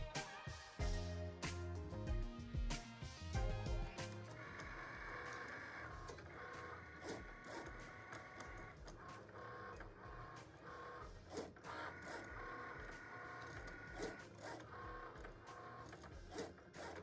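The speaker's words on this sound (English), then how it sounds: "While my Cricut Maker is still going" A Cricut Maker cutting machine cuts stencils from a plastic chopping mat, its motor whirring and the carriage stepping back and forth in rhythmic mechanical bursts, sustained and fairly close throughout.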